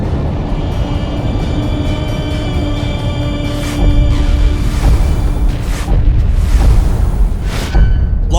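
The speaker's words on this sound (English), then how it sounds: "There's explosions coming from inside the station." Deep rumbling booms and bursts echo inside a space station being destroyed in the game Battlestar Galactica Deadlock, a continuous loud roar with heavier blasts swelling midway and near the end.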